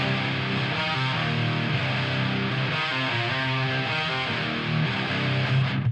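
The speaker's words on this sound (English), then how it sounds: "as it stands, the guitars sound like this" Thick, heavily distorted rock guitars play a steady wall of chords, dense and loud throughout with no other instruments standing out.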